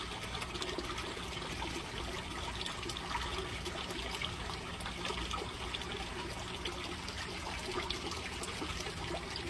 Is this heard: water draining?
yes